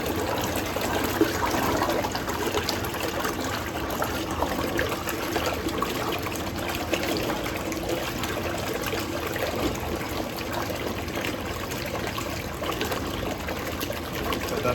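Water runs steadily inside a Hoovermatic Twin Tub Deluxe washing machine filling for a warm wash with detergent and washing soda, a continuous close trickling and gushing wash without pause.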